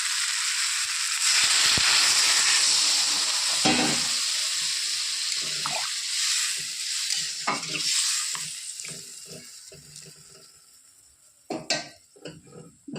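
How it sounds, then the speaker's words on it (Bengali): Water is poured into a spiced fish curry of parshe fish with cumin powder, making a loud steady splashing hiss that gives way to scattered stirring and clinking of a pan. "এবার দিয়ে দেবো পরিমাণ মতো জল।"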